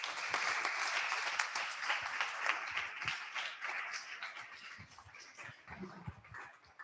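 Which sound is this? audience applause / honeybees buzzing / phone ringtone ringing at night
audience applause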